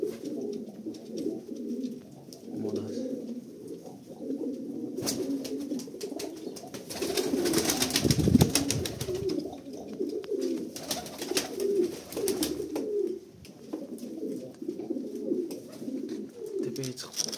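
Large-breed pigeons coo in a loft, steady low rolling coos repeating close by, joined by wing flutters and scuffles midway.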